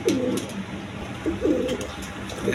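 Indian Bombay pigeons coo in a steady series of low, throaty calls, three rounded bursts close by over a faint background hiss.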